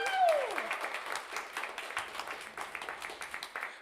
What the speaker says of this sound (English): how about one more round of applause for Scott Collins